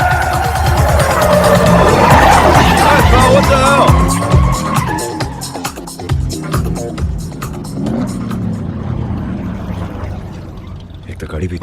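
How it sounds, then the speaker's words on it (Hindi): A car drives fast and loud with tires squealing and skidding, the engine roaring close up before the sound tapers off, with speech over parts of it. "एक तो गाड़ी भी इतनी तेज चलाती है ना।"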